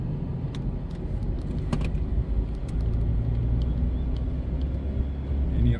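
Muffled, steady low rumble inside a moving pickup truck with the windows shut, a deep engine hum and faint rattles.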